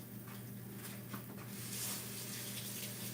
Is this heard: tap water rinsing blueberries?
yes